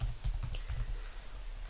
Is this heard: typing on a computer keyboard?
yes